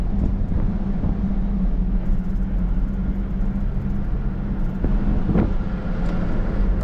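A 1997 Ford F1000 pickup with a straight exhaust and 33-inch tyres accelerates, giving a loud, steady, deep engine rumble from close by with slight rises in pitch and no talk.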